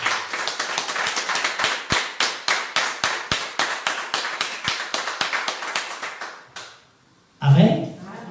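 A church congregation claps in praise to God, a steady rhythmic unison beat of sharp claps at a lively tempo that fades out, then a voice speaks briefly at the end.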